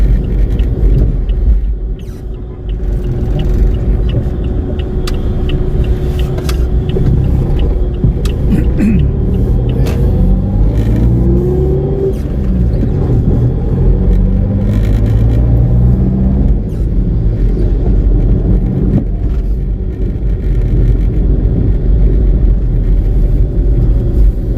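Heavy road traffic in Quiapo, Manila, heard as a continuous loud low rumble of engines with vehicles passing close by and occasional revving, recorded from within the traffic.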